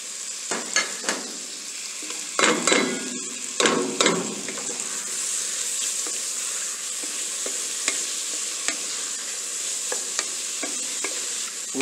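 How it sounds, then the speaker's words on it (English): Sliced mushrooms sauté with onions for cream of mushroom soup: a steady frying hiss runs throughout, with a cluster of loud spatula scrapes and knocks against the pan early on, then quieter occasional stirs. "We sauté these mushrooms"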